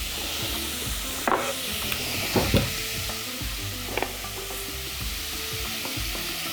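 Onions sizzle in hot oil in a pan, a steady frying hiss with occasional stirring scrapes and clicks of a utensil against the pan, close and clear with no voices.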